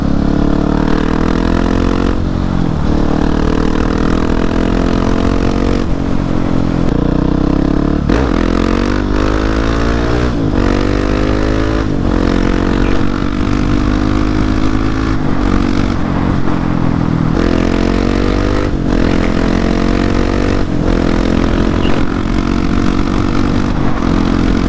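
A KTM 701 motorcycle with a new loud exhaust revs repeatedly, loud and close, the engine note climbing and falling in several sweeps over a constant rough idle, with crackling pops on the throttle closing.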